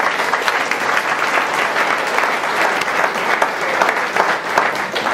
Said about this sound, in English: let's give a round of applause to the RPNA board members